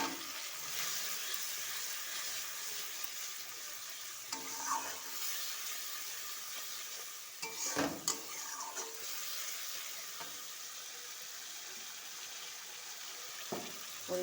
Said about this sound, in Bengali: কাশ্মীরি লঙ্কার গুঁড়ো, সামান্য একটু জল দিয়ে আবার কষাতে থাকবো